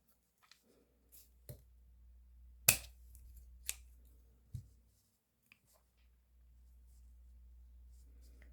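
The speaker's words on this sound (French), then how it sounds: "Donc je coupe, je vais couper là." Scissors snip macrame cord while customising a straw bag, a few sharp separate cuts over a quiet low hum, with faint voices and light handling in between.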